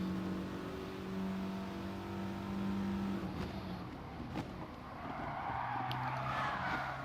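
Race car engine held at full throttle in a racing video game on the Dragon Trail Gardens circuit, a steady loud drone with tire skids and rising revs toward the final corner, running continuously without speech.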